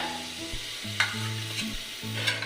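Onion, ginger and garlic pastes with chilli paste, red chilli powder, cumin and a little turmeric fry in a wok for a fish curry, a close steady sizzle with stirring scrapes and a few sharp spits.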